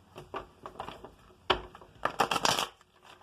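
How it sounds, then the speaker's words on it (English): Tarot cards are shuffled in several quick riffling bursts, soft papery flutters at first and then a louder cluster of rapid snaps near the end, recorded close and on their own without talk. "So I am going to shuffle again for you."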